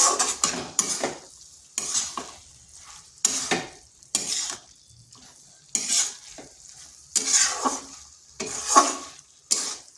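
Shredded cabbage stirred in a frying pan for a vegetarian Bengali dish, with repeated bursts of scraping and sizzling from a spatula against the pan in an irregular rhythm, close and fairly loud, with quiet gaps between strokes.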